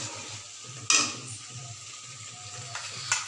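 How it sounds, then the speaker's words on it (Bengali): Spices being fried and stirred in a pan while cooking aloo potol chingri, a steady low sizzle with a few sharp scraping stirs and a clink of the spatula, close and alone. "এখন মশলা কষাচ্ছি।"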